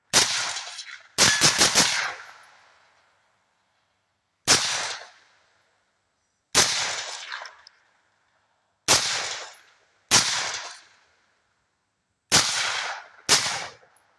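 A PSA JAKL rifle fitted with a Gemtech TREK II suppressor fires on an outdoor range: about nine sharp, muffled cracks, a quick pair early on and then single or paired shots every couple of seconds, each trailing a short echo.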